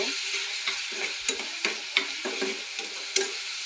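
Shrimp frying with ridge gourd in a pan, a steady close sizzle broken by short scraping stirs at an uneven rhythm, no voices.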